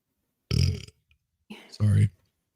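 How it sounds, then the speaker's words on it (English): A loud, close burp stretches out over about half a second, then a short pause, and then a second, stronger burp follows. The setting is a casual conversation between people. "Did you burp?"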